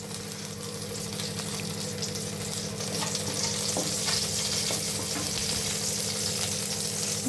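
Steady, loud sizzling of curry leaves frying in hot oil in a kadai, a continuous crackling hiss close up with no pauses, alone without talk.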